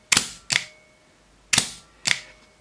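An SR25 airsoft rifle fitted with a Mancraft PDiK Gen 3 engine fires four sharp, close, snappy shots: two in quick succession, a pause, then two more, each with a short, metallic ring.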